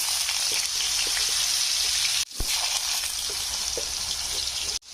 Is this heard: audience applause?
no